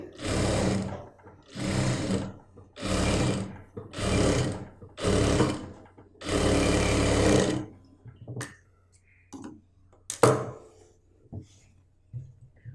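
A sewing machine stitching a pleatless churidar bottom runs in six quick bursts with short pauses between them, then gives way to faint fabric handling and small clicks, close and alone.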